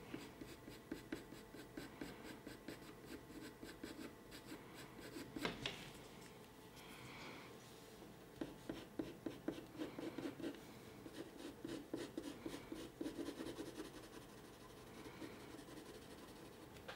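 A Caran d'Ache colored pencil burnishes over paper with soft, continuous scratchy rubbing in uneven bursts of strokes, close and quiet, with no talking.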